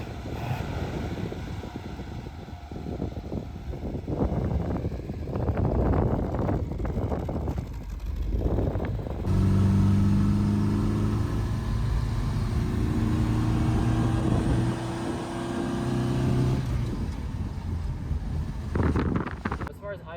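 A 1965 Volvo 122S Amazon engine with a replaced muffler runs with a steady low exhaust rumble. Broadband noise and wind buffeting sit over it, and a voice talks over part of the sound.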